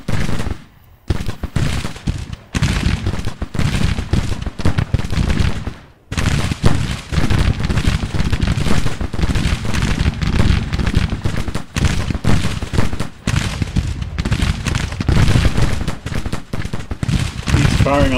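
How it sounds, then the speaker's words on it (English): Dense, sustained musket and rifle volleys from a Civil War battle in Grand Tactician: Civil War, crackling almost nonstop and loud for the whole stretch, with only brief gaps, as one brigade fires on another. "He's firing on the 4th Brigade."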